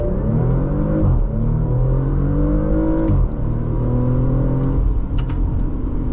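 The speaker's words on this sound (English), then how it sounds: "just going to accelerate from idle as you would in real life" A 2023 Porsche Macan S accelerating hard from idle on a straight road, the engine rising loudly through several gear changes with brief dips between shifts, heard from inside the cabin.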